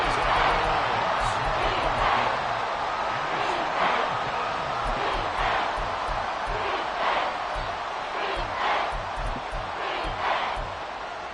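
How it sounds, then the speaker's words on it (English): Football stadium crowd at a Colts game roaring in a sustained, loud wash of cheering and yelling, with rhythmic surges of chanting throughout and no clear talk on top. "this crowd doing their best to make a lot of racket"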